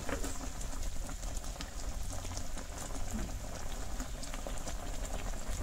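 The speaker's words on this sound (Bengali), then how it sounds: "এখন ওরকম জাল দিছি, আর একটু সময় জাল দিয়ে দেখুন খুব সুন্দর সিদ্ধ হয়েছে" Amla (Indian gooseberries) simmer for pickle in a pot, giving a quiet, steady bubbling and crackling texture throughout with no voices.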